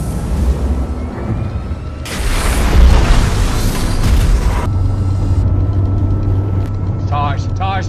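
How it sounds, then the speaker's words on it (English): An explosion aboard a spacecraft in the film Interstellar, a heavy rumbling boom swelling mid-clip over a dense low roar, with film dialogue and radio-style voices heard through it. "Dr. Brand, Cooper, there's been an explosion."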